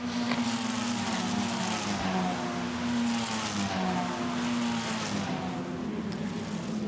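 Formula Renault race cars at Spa-Francorchamps howl past at high revs while braking into a chicane, their engine notes layered and steady, heard from trackside at moderate distance.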